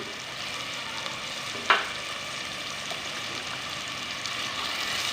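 Cluster beans sizzle steadily in a hot pan as potatoes are tipped in, one soft thump landing over the continuous frying hiss, which stays fairly quiet and even throughout.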